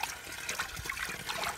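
Water drains out of an old cast iron sink set in a garden potting bench, a close, continuous gurgling trickle and slosh that holds steady without voices.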